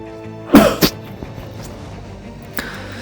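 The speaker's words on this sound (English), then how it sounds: "Sorry, I had to sneeze." A single loud, close sneeze with a quick second burst, then a quiet room with a faint click shortly after.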